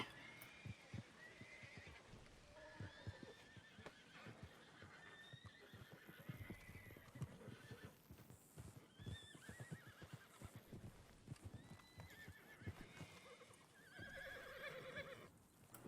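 Horses in a video game whinny and neigh repeatedly amid clip-clopping hooves, all faint and continuous throughout.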